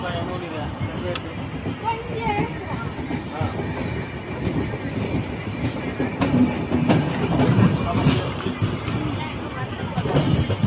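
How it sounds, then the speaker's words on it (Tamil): Cholan Express train running on rails near Tindivanam station, a steady rolling rumble with clattering wheels, heard from aboard as a voice talks over it. "வளைஞ்சு போகுது பாருங்கள் வண்டி"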